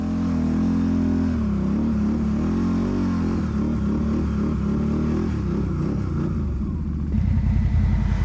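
An ATV engine labors loudly and steadily up a snowy hill, its low rumble shifting in pitch as the throttle varies, with a rougher, harder revving surge near the end.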